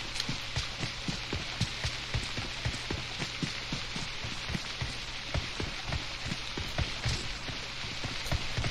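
Steady rain falls in PUBG Mobile, a dense continuous patter of drops with sharper individual hits scattered throughout, loud and without talk.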